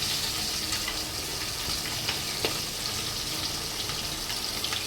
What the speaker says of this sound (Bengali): মাছটা খুব ফাটছে